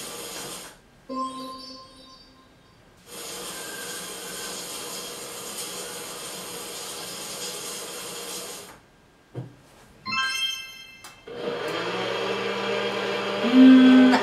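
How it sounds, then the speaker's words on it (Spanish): A household vacuum cleaner runs with a steady, loud whooshing motor roar for several seconds, bracketed by quieter pauses and other brief domestic noises, including a tonal whine and a low rumble. "A mí ahí me suena que es una aspiradora."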